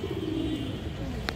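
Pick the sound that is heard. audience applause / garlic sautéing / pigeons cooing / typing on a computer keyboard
pigeons cooing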